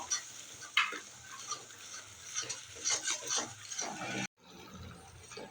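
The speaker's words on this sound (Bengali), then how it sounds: "চার চামচ মতো ফেটানো টক দই দিয়ে দেবো একটু কষিয়ে নেবো" Spices with whisked sour yogurt are stir-fried in a pan for a paneer mushroom masala, with steady scraping stirs and soft sizzling close by, then a brief cut-off near the end.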